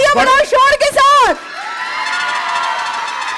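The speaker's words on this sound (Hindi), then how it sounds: "तालियां बजाओ शोर के साथ" A game show studio audience erupts in a burst of loud clapping and cheering after a host's excited shouting, then settles into a fainter, steady wash of crowd noise.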